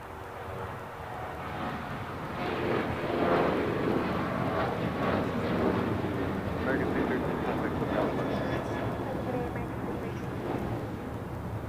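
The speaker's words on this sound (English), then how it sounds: "American Airlines 613 taking off to Chicago O'Hare on a 737-800." An American Airlines Boeing 737-800 takes off from LAX bound for Chicago O'Hare, a broad sustained jet roar swelling and holding steady at moderate distance, with wind buffeting the microphone.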